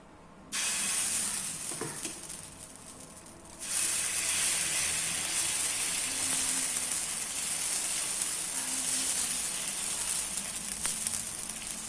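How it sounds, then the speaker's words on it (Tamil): Tapioca adai batter sizzles loudly on a hot dosa tawa, a sharp hiss that bursts in as the batter hits the pan, rises again a few seconds later, and then holds steady and close with no talking. "நான் ஒரு தோசை தவா வச்சுட்டேன். நம்ம அடை ஊற்றிக்கலாம்."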